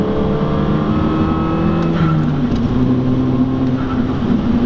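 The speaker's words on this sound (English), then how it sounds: "but this blow-off valve," A turbocharged Audi A3 wagon engine idles and revs steadily, with a brief airy whoosh midway from the turbo blow-off valve venting.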